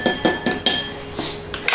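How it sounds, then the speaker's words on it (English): A spoon clinks against a bowl while stirring salt into water for pizza dough, giving several sharp, close taps in an uneven rhythm with a faint scraping between them. "So I'll just give this a little stir around just to mix it up."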